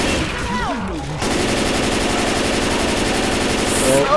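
Rapid automatic gunfire from the Left 4 Dead 2 video game, a dense sustained burst of shots after a short stretch of voices and game noise, loud and continuous to the end.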